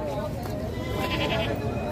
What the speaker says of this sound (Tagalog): Dalawang kambing na.